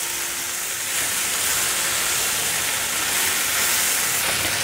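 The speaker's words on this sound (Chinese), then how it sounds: "快速翻炒。" Cabbage stir-fried fast with ketchup in a hot wok gives a loud, continuous sizzling hiss that stays even and unbroken from start to finish, with no voices.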